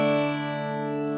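Electric guitar through a Fender Twin combo amp on the clean channel with reverb off, a single strummed chord ringing steadily and slowly fading, heard alone.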